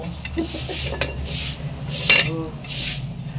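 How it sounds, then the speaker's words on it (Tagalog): Cooked bananas are lifted out of a cooking pot with clinks, scrapes and clatter of metal utensils against the pot. The sounds are close, with light background noise and faint voices. "Tapos na daw lutuin yung saging at hahanguin ko na lang sa kaldero."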